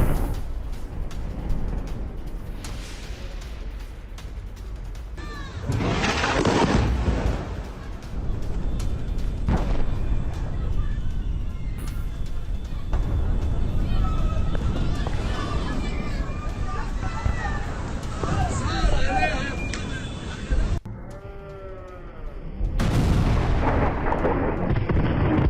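Israeli bombardment in Gaza City, with explosions and gunfire booming and rumbling continuously at a distance, under a narrator speaking throughout and brief bursts of louder impact noise.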